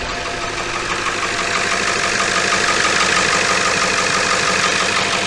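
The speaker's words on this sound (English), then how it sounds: "Sounds like a Powerstroke should." Steady, loud diesel clatter from a Ford 7.3 Powerstroke idling in an OBS pickup truck, a dense continuous knock heard close with no voices over it.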